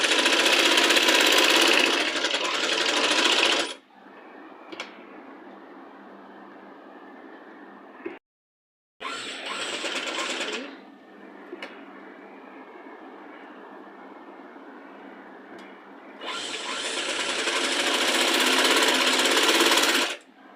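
A sewing machine stitches around the edge of a child's Punjabi dress top in loud, steady bursts of rapid mechanical chatter, with a quieter gap between runs and a longer burst at the end.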